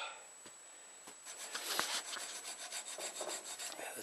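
Hand saw rasping in short repeated strokes to widen a slot for a knife tang, the workpiece held in a vise while a French butcher knife is converted; close, moderately loud strokes with no talking.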